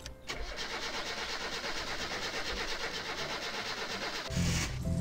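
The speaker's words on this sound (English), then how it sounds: "Let's get in and turn on the car." The Satsuma's engine in My Summer Car cranks with a rapid whirring starter and catches, settling into a steady mid-pitched idle, then revving louder near the end.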